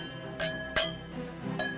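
Wine glasses clink together in an Easter toast, three bright separate chimes spaced over a couple of seconds, close and fairly quiet with a soft background hum.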